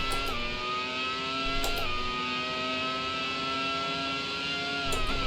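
Racing car engine in Automobilista's Grand Prix era, a steady high-pitched whine held at high revs from the cockpit, with brief dips and gear-shift blips at a few points.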